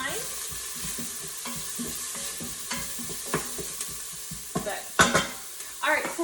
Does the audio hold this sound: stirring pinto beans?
yes